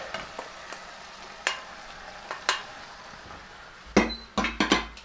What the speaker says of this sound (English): All right, in go the beans.